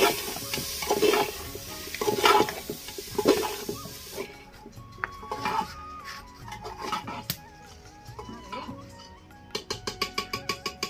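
A spoon scrapes and stirs spices and vegetables roasting for veg biryani in a village-style pan over a medium flame. A soft sizzle runs throughout, with the scraping strokes coming in an irregular rhythm that turns into rapid clicks at the end.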